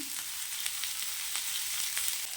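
A single tomato frying in oil with onion for a chickpea gravy makes a steady, close, bright sizzle with faint crackles scattered through it, and no one speaks.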